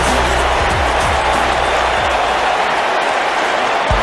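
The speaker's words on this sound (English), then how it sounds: "The crowd is buzzing with excitement." Steady, loud crowd noise fills an arena in the wrestling game WWE 2K19, a dense continuous roar with no pauses and a few low thuds underneath.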